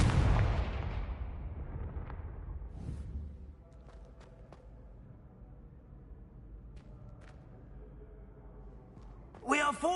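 A Confringo fire spell in Hogwarts Legacy lands in a heavy booming blast that fades into a long rumbling tail, with small clicks along the way and a fresh burst of noise at the end.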